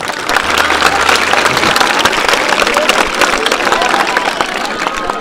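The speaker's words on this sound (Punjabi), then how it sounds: "ਸੁਖੋ ਕੀ ਸਕੂਲ ਦੇ ਲਈ ਇੱਕ ਵਾਰੀ ਤਾੜੀਆਂ ਜ਼ਰੂਰ ਮਾਰ ਦਿਓ ਪਲੀਜ਼" School students at a government school in Pakistani Punjab clapping together in loud, dense applause, with crowd chatter and movement mixed in throughout.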